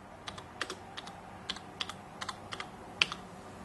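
Keys clatter on a computer keyboard in a quiet room while text is typed for shoe embroidery software, a sparse series of crisp, close clicks in uneven rhythm with no talking.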